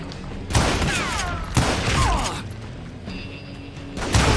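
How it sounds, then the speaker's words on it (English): Loud gunfire erupts in the western video game Call of Juarez: Gunslinger, with heavy shots about once a second, ringing ricochets and mechanical clatter between them, and no voices. "We're under fire!"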